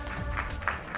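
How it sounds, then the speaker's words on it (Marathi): Audience applause at the Zee 24 Taas Thane Sanman 2025 award ceremony, honoring a CEO for excellence in pediatric care leadership; a brief, steady burst of clapping fills about one second. "जोरदार टाळ्या वाजवा."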